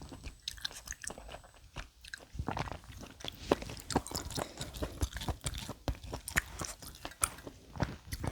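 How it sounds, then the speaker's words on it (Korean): Someone chews large cut pieces of abalone during a close-up seafood eating session. The wet chomps and crunchy bites come rhythmically and close to the microphone, with no speech. "전복도 제가 씹어 먹고 싶어가지고 좀 크게 잘랐거든요"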